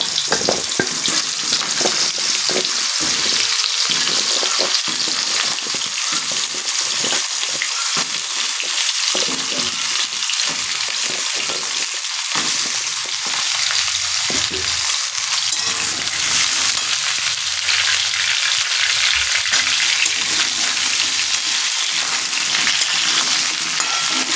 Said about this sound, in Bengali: এবারে আমি এই তেলের মধ্যেই প্রথমে পটলগুলোকে ভেজে নেব, লাল লাল করে ভেজে নেব